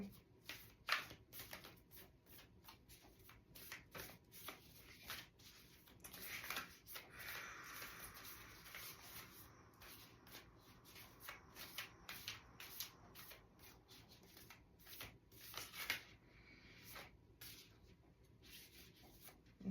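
A deck of oracle cards is shuffled close and quietly, with rapid papery riffling and rubbing in bursts over many seconds while someone speaks softly over it.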